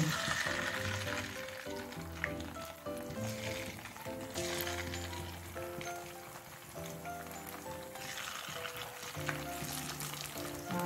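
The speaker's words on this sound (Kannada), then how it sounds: "ಎಣ್ಣೆ ಬಿಸಿ ಆಗ್ತಾ ಬಂತು. ಹಾಗೆ ಕಬಾಬ್ ಬಿಡುವ." Kebab pieces frying in hot coconut oil, a steady crackling sizzle throughout, fairly quiet and close, with some background sound layered on top.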